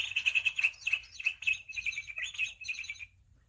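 Small birds singing in a morning storybook scene: bright, rapid chirps and tweets in quick clustered phrases, clear and close, stopping abruptly near the end with no talk.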